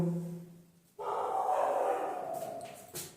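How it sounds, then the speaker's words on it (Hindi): Dogs bark at night outside a home, a couple of loud, moderately near barks followed by a sustained whining howl, with quiet between. "हमारे तो कुत्ते हैं लेकिन रात का समय हो गया तो रात का समय होने के कारण चिल्ला रहे हैं।"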